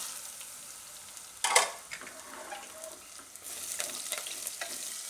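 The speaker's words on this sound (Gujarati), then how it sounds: "હવે આપણે એમાં આ સુરણ નાખી દઈશું." Chunks of elephant foot yam drop into hot oil with cumin and chillies, setting off a sharp loud sizzle that fades to a steady softer frying hiss, with light stirring and utensil scrapes close by.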